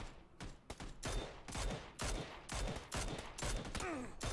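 Rapid bursts of gunfire in PlayerUnknown's Battlegrounds, a fusillade of loud, sharp shots repeating in quick clusters throughout, close and dominant with no talk over them.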